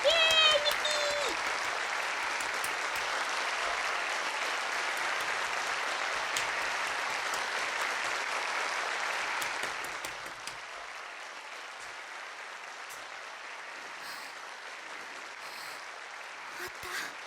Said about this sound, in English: Swept up in a storm of seemingly unending applause